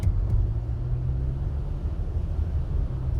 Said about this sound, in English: But go ahead and give it some gas, see how it feels.